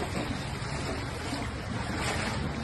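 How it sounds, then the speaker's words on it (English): Floodwater from the Ping River rushes past in a strong, steady current, a broad continuous roar close to the microphone with wind buffeting mixed in. "My goodness, it's quite a current here."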